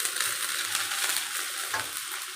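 Ginger garlic paste sautéing in a hot oiled pan with tomato and coriander, a steady close sizzle with light stirring scrapes throughout, no voices.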